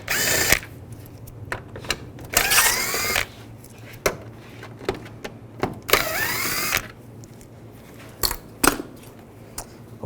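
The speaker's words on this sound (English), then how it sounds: "Take these screws out, use a T20 socket." Several bursts of a power drill driving a T20 socket to back out screws on a 2010-2017 Chevrolet Equinox radiator fan assembly, each whir rising and falling in pitch, close and loud, with quiet gaps and clicks between.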